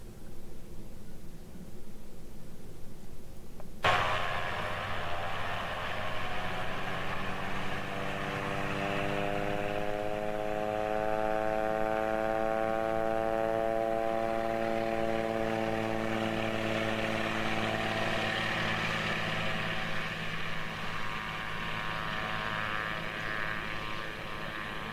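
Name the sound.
small airplane taking off from a runway in Alaska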